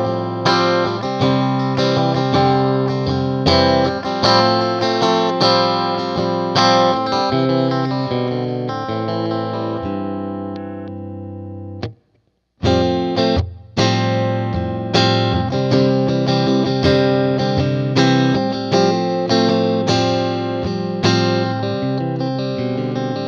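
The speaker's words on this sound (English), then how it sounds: "So you get this really nice Strat in between tones." Clean Fender Player Series Stratocaster with a split neck humbucker plays a chiming chord progression with bright, glassy tone, briefly pausing midway before resuming.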